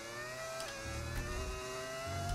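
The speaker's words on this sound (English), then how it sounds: "I keep like hearing a second engine, but there's no one around me" A second F1 25 car engine whines and revs in the video game, a tonal drone whose pitch steps down and up through gear changes, moderately loud beneath the player's own engine.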